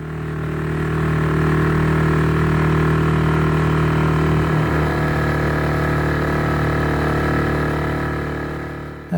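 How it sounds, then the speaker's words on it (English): A 6-horsepower outboard motor runs steadily at quarter throttle on a loch at displacement speed, a loud, close, continuous droning hum with no talk. "beat of a 6-horsepower outboard, running on a quarter throttle and sipping fuel at displacement speeds"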